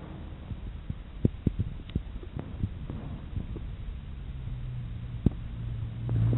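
A sod cutter (turf cutter) powered by a 6.5 hp Kohler engine runs as a low, steady throbbing hum, fairly quiet and distant, with scattered knocks and thumps over the drone.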